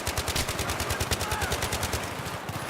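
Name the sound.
suppressive machine gun fire in video game Battlefield 3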